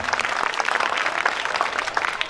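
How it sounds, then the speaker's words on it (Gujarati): Dense, steady clapping from an audience at a village school program, sustained throughout at moderate volume with no voices over it. "એકવાર જોરદાર તાળીઓથી એ લોકોને આપણે બતાવીએ."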